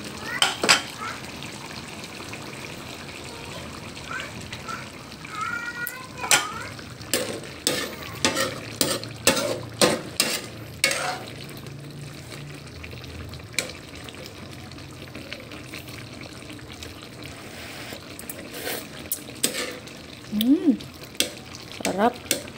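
Ginataang papaya cooking in a pan, stirred now and then, with a soft simmering, frying hiss under repeated sharp clanks and scrapes of a utensil against the pan, fairly close and with no talking.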